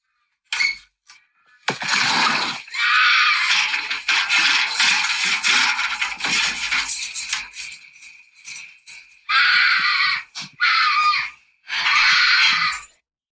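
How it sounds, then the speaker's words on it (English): A mountain lion screams at night, recorded on a phone voice memo: several loud, harsh, drawn-out shrieks come in separate bursts with quiet gaps between them. "It's a motherfucking mountain lion."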